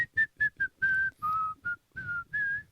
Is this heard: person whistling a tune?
yes